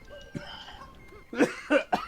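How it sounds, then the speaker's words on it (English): A few short, sharp coughs burst out close to the microphone after a quieter stretch, the last ones coming in quick succession. "I'm sorry, I'm coughing."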